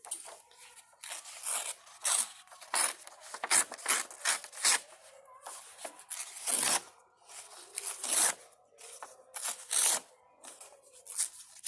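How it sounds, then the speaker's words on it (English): Paper is ripped into strips by hand, a series of sharp tearing rips in irregular bursts with quiet pauses between them, close up and with no talking. "I have decided that I'm just going to rip paper."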